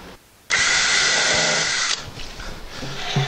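A power drill spins up sharply and drives into a melamine cabinet panel for about a second and a half, loud and close, then cuts off to quieter shop noise.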